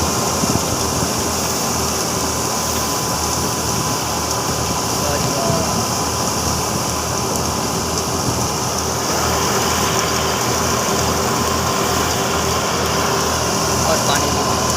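A tractor engine drones steadily in a village setting, a continuous loud mechanical hum with a constant rumble that runs the whole time, with people talking nearby.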